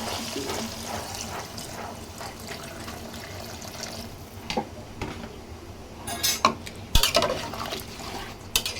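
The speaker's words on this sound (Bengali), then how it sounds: "এখন আস্তে আস্তে গরম পানি দিয়ে দিচ্ছি" Hot water poured slowly into a pot of chicken and potato curry, a soft steady pour under faint cooking noise, ending in a few clanks of utensils against the pot.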